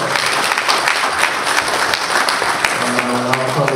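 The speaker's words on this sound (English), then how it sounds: "So again, give yourself another round of applause." Church congregation giving another round of applause after a pastor's response, loud dense clapping from a crowd with voices mixed in underneath and some crowd murmur.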